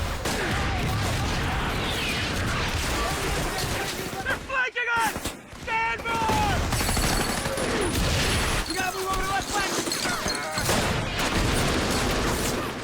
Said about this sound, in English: so we're all just shooting wildly into the night